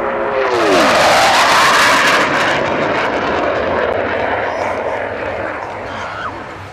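A military jet performs a flying display at the Waddington airshow in 2011, flown by Team Viper in the unique Empire Test Pilots' School colour scheme. It gives a loud, close roar that slowly fades as it passes, with a commentator talking over it.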